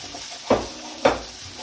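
Pork meat and onions are stirred in a frying pan under a faint sizzle, with two distinct scraping sweeps of the utensil about half a second apart.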